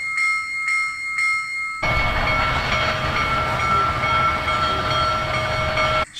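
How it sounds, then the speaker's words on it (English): A few last bell rings give way to a sustained, bright whistle from an N scale Athearn Big Boy model steam locomotive, blowing steadily for several seconds before cutting off. "Short whistle."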